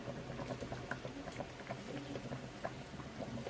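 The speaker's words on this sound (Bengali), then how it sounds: "মাছের ঝোল হয়ে এসেছে, এবার একটু জিরের গুঁড়ো" Fish curry simmers in a pot with soft, quiet, irregular bubbling and popping, a faint close patter of small bursts throughout.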